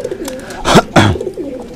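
Bird bought at a market calling: close, loud cooing notes, two strong swooping calls in the middle over softer background murmurs.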